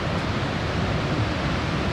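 Steady ocean surf washing continuously along a shoreline, a broad hiss of breaking waves with no distinct individual crashes, moderately loud and unbroken throughout.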